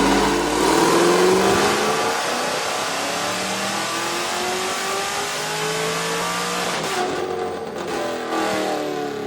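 Cadillac drag car engine revving hard and loud, a continuous rising howl held at high revs for several seconds, briefly dipping and picking back up, with no talk.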